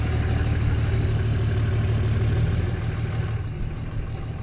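Cummins diesel engine running at a steady idle, a loud continuous low rumble with even mechanical clatter that eases slightly near the end, no voices.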